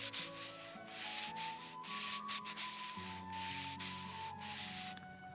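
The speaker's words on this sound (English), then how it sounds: "Right down to some sanding to remove any splinters and fine-tune some more." A wooden walking stick being sanded by hand, continuous rough rubbing strokes close up, fairly quiet, with a low tonal hum running underneath.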